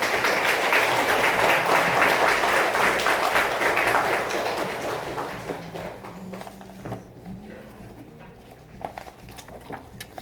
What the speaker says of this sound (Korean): 저는 큰 박수를 좀 모시고 싶어요